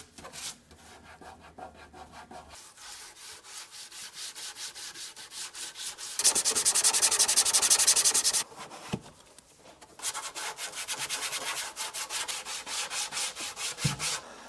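A rubberized coating and grime are rubbed off a BMW center console, giving close, dry scrubbing strokes that swell into a loud, rapid burst before easing back to steady rubbing, with no talk.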